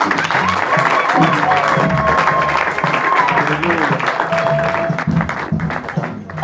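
Church congregation clapping and cheering in praise of Jesus, a loud, sustained wash of hand claps and shouts with voices mixed throughout, fading slightly at the end.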